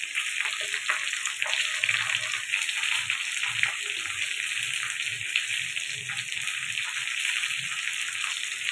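Water pours into a pan of dry fish curry, giving a continuous hissing, sizzling wash with faint bubbling underneath, fairly quiet and close.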